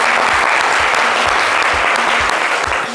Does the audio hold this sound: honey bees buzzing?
no